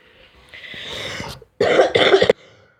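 A person nearby gives a rasping, breathy throat noise, then two loud, harsh coughs in quick succession before the sound falls away.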